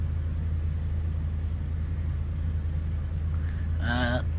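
Cessna 206 single-engine aircraft on landing approach, its engine a steady, loud low drone close by, with a brief rising harmonic whine near the end as throttle is added.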